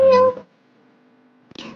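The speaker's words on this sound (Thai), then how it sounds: "มีแมวด้วย" A cat in the game GTA gives a short, clear meow up close, followed by a brief pause and a second shorter meow-like call.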